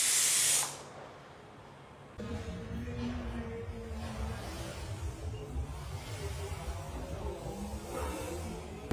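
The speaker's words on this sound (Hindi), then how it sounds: "प्रेशर निकल गया है कुकर का" A pressure cooker cooking rice on a gel-fuel stove releases steam in a loud, brief hiss at the very start, then gives way to a steady, low rumbling background.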